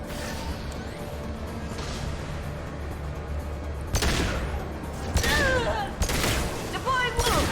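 Heavy gunfire in the video game Mass Effect 2, with a constant rumbling battle backdrop broken by several loud sharp bursts and crashes toward the end, and voices heard in the mix.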